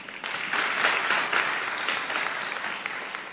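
Church congregation clapping during a sermon, a dense wash of hands that swells after a brief quiet start and holds fairly loud and steady throughout.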